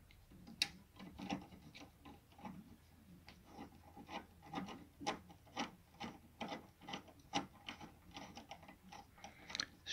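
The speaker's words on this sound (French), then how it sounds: "avec un outil spécial," A special tool unscrews an air conditioning valve on a Renault Clio 3 1.5 dCi, giving soft repeated metallic clicks and rubbing scrapes in a loose ratcheting rhythm, close and quiet.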